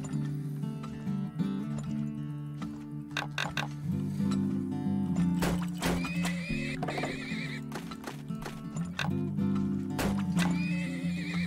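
Horses in the video game Turmoil whinny repeatedly over steady hoof clip-clops and a looping game tune, moderately loud and with no talking.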